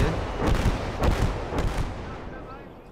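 Battlefield explosions in the WWII game Gates of Hell, set on a hill near Saint-Lô: three heavy booming blasts come in quick succession over a dense rumbling background, then fade into a lingering low roar.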